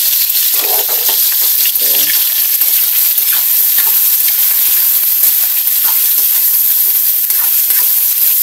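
Pork sizzles loudly and steadily in a hot pan while cooking for ginataang kamansi, a dense continuous crackling hiss with faint stirring clinks underneath.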